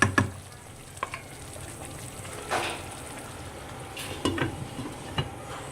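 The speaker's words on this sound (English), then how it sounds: "let the fish to cook in this gravy" Sri Lankan fish curry simmering in its gravy in a pan, a soft continuous sizzle and bubble with a few scattered clinks of a utensil and no talking.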